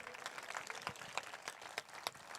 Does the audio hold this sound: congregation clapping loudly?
yes